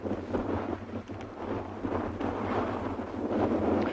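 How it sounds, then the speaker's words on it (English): Constant wind buffeting an outdoor microphone on a morning safari drive in South Africa, a loud continuous rumbling roar with gusty swells and no voices. "but it's just this constant wind"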